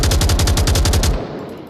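Automatic gunfire in the VR shooter Onward: a rapid, steady burst of about a dozen loud, close shots that stops abruptly, followed by a fading echo.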